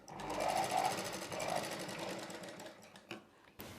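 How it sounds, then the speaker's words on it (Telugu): A sewing machine stitches a blouse seam with a rapid, even mechanical chatter up close, slowing and fading toward the end before a couple of sharp knocks. "ఇప్పుడు చివరి వరకు కుట్టు వేసేసుకోవాలి"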